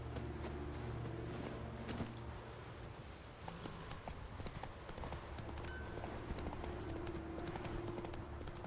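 Horse hooves clip-clop steadily while riding in The Witcher 3: Wild Hunt, a continuous close rhythm of hoofbeats over a low ambient bed, with no talking.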